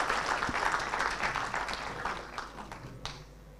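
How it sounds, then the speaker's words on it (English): Applause from a crowd, loud at first and gradually fading out over a few seconds, with a single clap standing out near the end. "Another round of applause for the PSST,"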